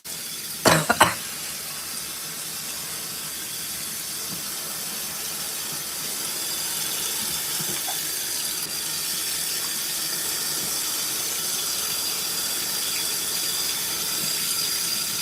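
An LG ThinQ washer fills with water in a steady, hissing rush that runs continuously, preceded by a couple of sharp mechanical clicks at the start, close and fairly loud.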